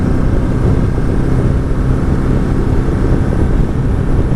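A 2018 Ducati Multistrada 1260S motorcycle accelerating hard in third gear, a steady loud engine roar blended with heavy wind rush, constant and unbroken throughout.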